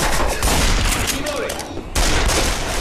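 A burst of rapid gunfire in Left 4 Dead 2, loud and dense for most of the moment with a brief dip before resuming, with voices faintly mixed in.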